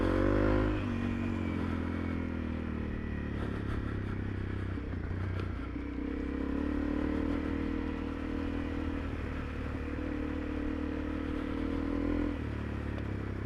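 A Honda CRF300 Rally motorcycle ridden on a trail hums with a steady engine drone, a slight rise and dip in revs midway, and bits of clatter and scraping from the ground, close and continuous with no voices.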